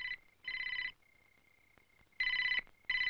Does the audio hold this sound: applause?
no